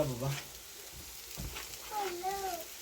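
Eggs frying in a pan as spinach is added, a soft steady sizzle beneath a voice speaking over it.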